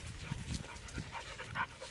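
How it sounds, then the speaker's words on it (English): A dog pants close by in quick, breathy bursts, faint and steady over a muffled background hum. "Whose dog is that?"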